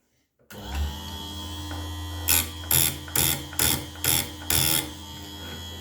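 A Parkside PSG 85 B2 chain sharpener runs with a steady motor hum, then grinds chain teeth in six short, evenly spaced bursts, each a loud rasping contact against the saw chain, close up with no talk.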